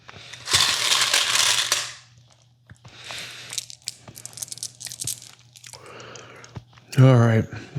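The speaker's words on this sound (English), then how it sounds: "I actually like the way that crunch goes with the ice cream." Eating ice cream with crunchy Oreo pieces, loud crushing crunches in close bursts between quieter chewing, with a brief spoken voice near the end.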